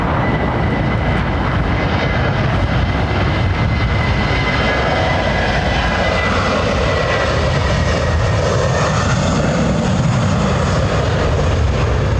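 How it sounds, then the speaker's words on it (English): A continuous loud buzz from an aircraft airframe at London Heathrow Airport, an even, unbroken engine drone that holds steady throughout with no talk over it. "continuous buzz coming from the airframe"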